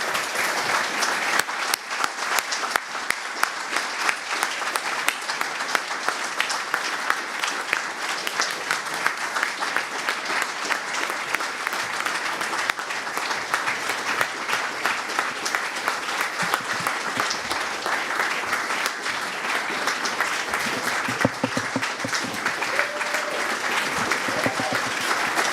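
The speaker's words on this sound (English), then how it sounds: "I think you guys all deserve a big applause" Sustained audience applause fills a conference hall at an SQA conference, a dense, steady clapping that stays loud and even throughout with little talk over it.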